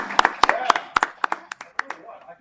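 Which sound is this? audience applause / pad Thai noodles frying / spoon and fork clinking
audience applause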